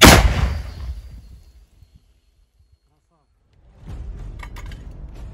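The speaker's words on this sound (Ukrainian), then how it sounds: "Постріл!" A single loud gunshot from Ukrainian soldiers firing on entrenched Russian positions near Soledar, booming at the start and decaying over a second, followed by quiet and then rising outdoor rumble and rustling.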